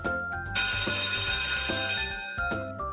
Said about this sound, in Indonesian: Contohnya terdapat pada suara bel.